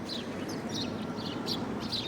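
Sparrows flock around bird feeders, giving repeated short, high chirps at a moderate distance over a steady outdoor background.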